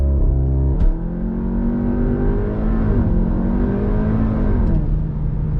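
A Cupra Ateca ABT Limited Edition with 350 bhp launches hard, its engine roaring loudly and continuously from inside the cabin as it revs up through the gears with brief dips at the shifts.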